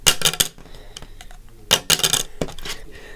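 A Crypto.com Ruby Steel metal debit card is dropped onto a hard surface, landing in three separate bright, ringing metallic clatters, each bouncing briefly before settling.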